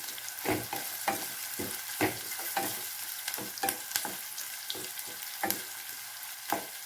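Ginger, garlic and onion fry in oil and ghee with a low, steady sizzle, while a spoon scrapes and knocks the pan in regular strokes, roughly one or two per second, close and clear with no speech.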